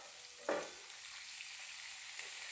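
Potato pieces frying in hot oil tempered with dried red chillies, a steady close hiss and sizzle with a brief stir at the start, no talk.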